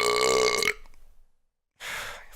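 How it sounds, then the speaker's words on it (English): A loud, long human burp with a strong tonal rumble cuts off abruptly, followed by a brief silence and then a breathy exhale or gasp. "I'm grateful for that burp. That was a great burp."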